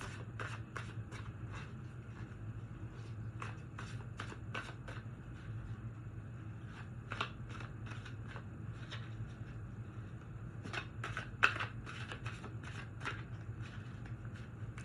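A deck of oracle cards being shuffled by hand, quick crisp riffles and flicks repeating in irregular bursts over a low steady hum, close and fairly quiet.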